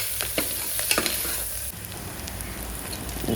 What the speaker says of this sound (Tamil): நல்லா இது ரெண்டுத்தையும் நல்லா ஃப்ரை பண்ணிகிட்டே இருக்கணும்